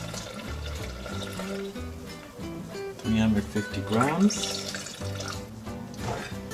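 About 350 grams of warm water streams into a bowl for sourdough with a splashing, gurgling pour that rises midway, while a person talks over it.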